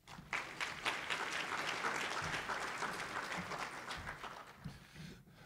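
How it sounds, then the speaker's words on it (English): A crowd at an awards presentation applauds steadily for several seconds, a dense patter of clapping that fades slightly toward the end. "Please give him a round of applause."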